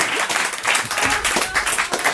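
Audience applause at a live comedy show, a dense, steady wash of many hands clapping close by with no one talking over it.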